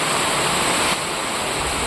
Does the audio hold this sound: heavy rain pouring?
yes